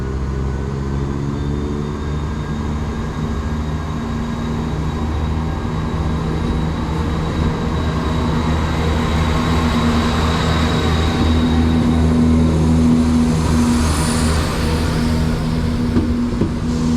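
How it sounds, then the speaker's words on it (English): An East Midlands Railway low-emissions train pulls away from Crewe, its low engine hum and rumbling wheels building steadily, with faint whining tones overhead, no talking. "So goes the delayed 1306 East Midlands railway service from Crewe"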